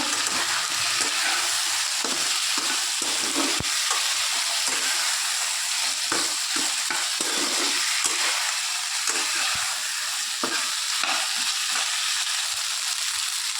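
Cut, washed potatoes and another vegetable stir-fry in hot oil in a pan, a steady loud sizzle broken by the scrape and clatter of a spatula stirring at an uneven rhythm.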